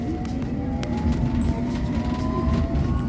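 A London Underground Circle Line train runs steadily, its deep rumble and rail noise holding constant with a faint rising whine and occasional clicks, close and continuous with no talk.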